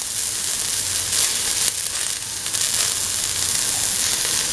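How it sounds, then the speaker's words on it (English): Garlic, shallots and ginger fry in a hot pan with a loud, hissing sizzle that swells in a few bursts as the pieces are stirred, continuous and close without talk. "Now put in the garlic, the shallots,"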